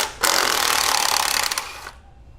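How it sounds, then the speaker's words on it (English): A 13 mm socket on a power ratchet backs out the lower AC compressor bolt on a Jeep 2.4 engine, giving a steady, close, buzzing whir that runs for under two seconds and then stops. "So 13 millimeter socket now, and we're going to remove the bottom bolt for the AC compressor there."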